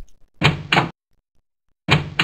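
A door in a Terraria-style game built with Clickteam Fusion 2.5, sounding as two quick loud thuds close together, a pause of silence, then another thud.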